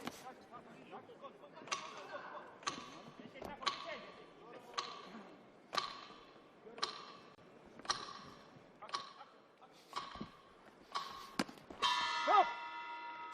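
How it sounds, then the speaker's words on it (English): Sharp, hollow ticks mark the final seconds before the bell at a live combat-sports fight event, about a dozen evenly spaced roughly once a second, ending in a brief ringing tone. "We get basically the ticking sound right before they ring the bell."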